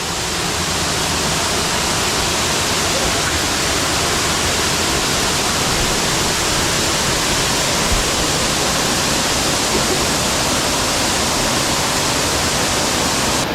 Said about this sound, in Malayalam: നമ്മൾ ആ വെള്ളച്ചാട്ടത്തിൻ്റെ ഫ്രണ്ടിൽ എത്തിയിട്ടുണ്ട് അതിന് സൗണ്ട് കേൾക്കാം